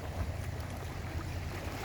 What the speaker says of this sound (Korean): 제가 가장 좋아하는 파도 소리 그리고 일출